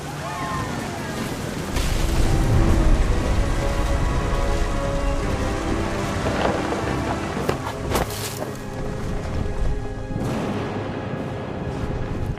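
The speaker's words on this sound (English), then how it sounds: "The thunder sounded much too close and full of angry power" Steady heavy rain with rumbling low thunder bursts during a thunderstorm in What Remains of Edith Finch, a dense continuous wash with a few louder swells and a sharp crack near the middle.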